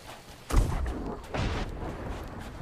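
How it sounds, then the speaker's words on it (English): Two heavy booming cannon shots from an enemy ship in Sea of Thieves, one sharp blast followed by a second about a second later, each with a rumbling tail and no talking. "Someone's firing on me"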